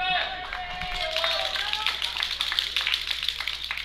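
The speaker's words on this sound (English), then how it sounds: "The hometown crowd gives her some encouragement." A hometown crowd claps and cheers for a lifter at the 2022 IPF World Masters Powerlifting Championships, with steady rapid clapping and cheering under a commentator's voice.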